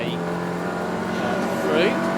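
Race cars in a 750 Motor Club Roadsports race at Croft circuit, one running a 2.5-litre Duratec engine, drone steadily as they circuit the track, a continuous loud engine hum with a commentator talking over it.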